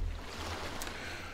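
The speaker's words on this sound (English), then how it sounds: "in theory, you can hear some lapping waves and things" Soft waves lap on a beach as game ambience in a Foundry VTT tabletop session. The wash is low and steady and quiet throughout, with no talk over it.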